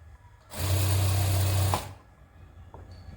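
Sewing machine running in one steady burst of about a second and a half while stitching a lined salwar, loud and close, then stopping into quiet room noise.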